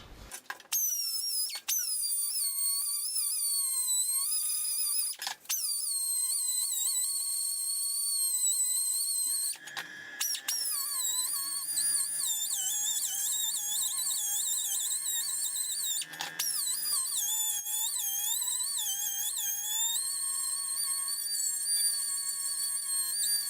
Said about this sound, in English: I'll just trim around that bucket right there.